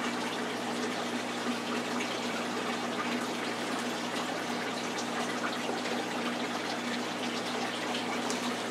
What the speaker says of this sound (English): allowing the water to run for a little while